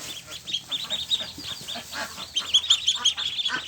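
Five-day-old Pekin ducklings crowd around water to drink, keeping up a dense, continuous chorus of high, overlapping peeping calls close by.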